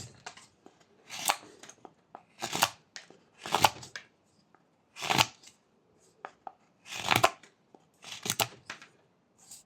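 A knife whittles a block of wood into a simple 1x1 parrot with sweeping cuts: about eight crisp, close scraping strokes, each a short rasping burst separated by quiet pauses, in a loose, unhurried rhythm.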